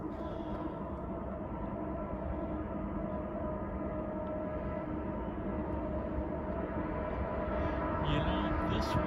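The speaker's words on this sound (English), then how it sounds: "Let's enjoy this panoramic shot of a train passing by below." Union Pacific train rolling through a canyon far below a rest-area overlook, a steady, distant rumble of wagons that holds even throughout and swells slightly near the end.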